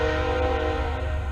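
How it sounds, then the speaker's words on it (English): A train horn sounds as a steady, sustained tone with a low rumble beneath, heard alone and fairly loud for a brief moment. "and hey, that's the train."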